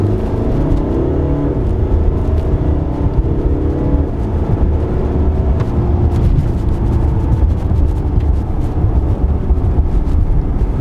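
A Mercedes-Benz GLC AMG Coupe in Sport Plus mode drives with a loud, close engine growl and road roar, with sharp crackles popping through the steady drone.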